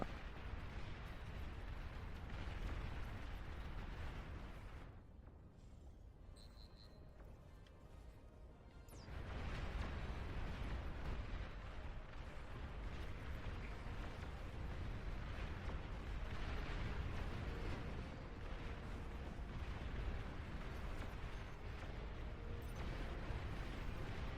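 Heavy rumbling explosions and artillery-like blasts from a Beyond All Reason battle where a commander unit is destroyed, loud and sustained, with a brief quieter dip before the barrage resumes at full weight.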